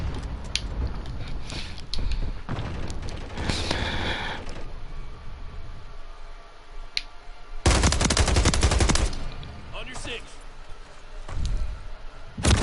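Sniper and other gunfire crack out in Call of Duty: Modern Warfare 3 gameplay, with loud bursts of shots, a dense volley near the middle and brief pauses between.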